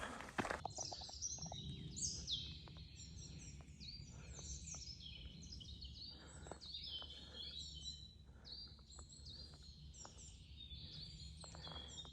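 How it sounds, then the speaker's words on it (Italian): Small forest birds sing in the Pian del Cansiglio woods, a steady overlapping stream of high chirps and trills carrying through the whole stretch at moderate, somewhat distant level over soft ambient noise. "Che belli gli uccellini."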